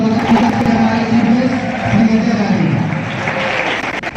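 Audience at a Republic Day school function applauding steadily and loudly, a dense wash of clapping sustained throughout without a break.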